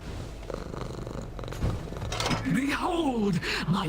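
Cats purring in the Hades 2 video game, a low steady rumble near and close, joined near the end by rising and falling gliding vocal tones like a meow or character voice.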